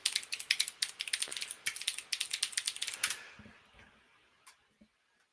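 Rapid bursts of keystrokes clatter on a computer keyboard, close and crisp, in quick uneven runs for about three seconds before trailing off into a few isolated taps and quiet.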